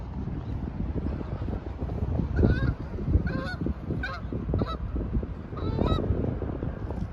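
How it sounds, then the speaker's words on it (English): A flock of geese honks repeatedly at a distance over rumbling wind noise by Lake Huron at Port Huron, Michigan, calls overlapping in irregular bursts. "look at those geese"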